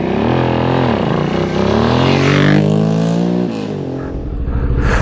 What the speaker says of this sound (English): testing out the bike, on some unknown tracks as usual